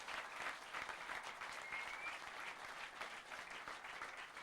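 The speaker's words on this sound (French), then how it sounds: "on applaudit bien fort Fabrice et ce héros rural" Audience applause for a rural hero at an outdoor evening village television show in Saint-Trivier-de-Courtes, a steady dense wash of many hands clapping at moderate distance, continuous throughout with no voices.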